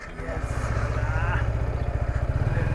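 A motorcycle engine runs nearby in a rough, rapidly pulsing mid-pitched chug, steady in loudness, while someone speaks over it.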